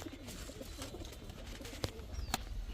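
Pigeons coo softly among a group of birds that includes King and Shocking breeds, with low repeated calls under a few sharp clicks and knocks.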